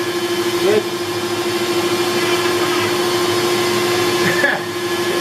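A CNC router carving a red oak workpiece runs with a steady mechanical whine and hum throughout, loud and continuous, with faint shifts in pitch as the cut progresses.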